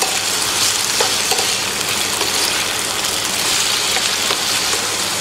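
Potatoes sizzle and fry steadily in a pan as salt is added and they are stirred, a dense, close crackle with occasional scrapes running throughout.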